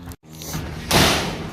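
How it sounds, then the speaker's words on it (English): Shed doors swing open and fold back into the sides, giving a short thump and clatter followed by a broad rushing rattle that lingers for a moment. "Doors open up. They fold right into the sides like that."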